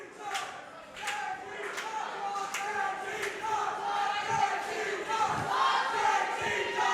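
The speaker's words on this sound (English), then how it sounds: "you hear the chants of JT Dunn, then you hear the opposing chants" Split wrestling crowd at an independent XWA championship show chanting in rhythmic waves, a steady roar of voices with repeated pulses of shouting and a few claps throughout.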